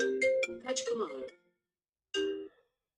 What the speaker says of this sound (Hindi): दोस्त का फोन आ रहा है.